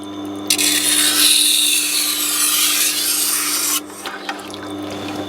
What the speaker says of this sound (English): now when that's running, it's going to give us a coarse grind